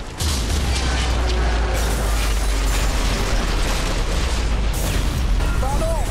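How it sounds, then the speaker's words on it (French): Continuous loud booming and crashing from explosions in the racing video game Split/Second, a dense, unbroken rumble of blasts and debris throughout with no clear gaps. "j'ai été emmerdé par les explosions."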